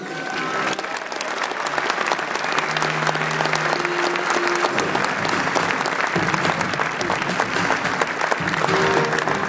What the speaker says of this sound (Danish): Klapsalver